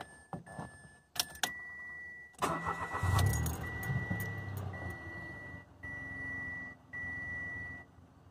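A 2014 Mitsubishi Mirage with its alternator removed cranks briefly and starts, then idles steadily and quietly nearby after a few clicks and a short beep.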